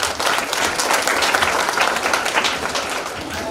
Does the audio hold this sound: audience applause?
yes